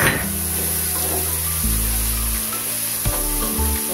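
Onions sizzle and fry in a large wok, giving a steady close hiss with some low clatter and bubbling throughout and no talk.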